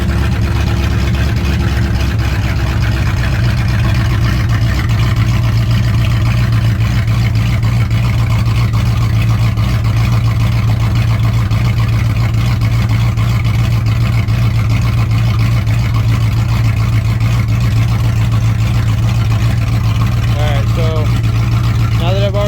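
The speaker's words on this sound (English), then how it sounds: "let it idle down" A 1996 Ford F150 truck engine with Mustang headers idles steadily and loudly, a constant low rumble through the exhaust with no change in pace.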